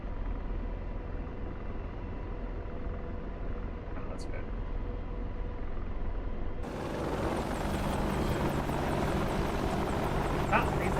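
An AH-64D Apache helicopter takes off during a night training mission in the DCS flight simulator, with a steady rotor and engine drone that turns louder and brighter partway through.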